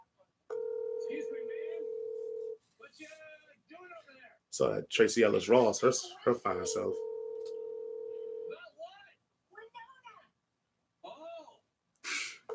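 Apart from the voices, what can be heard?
phone call ringing out, waiting for an answer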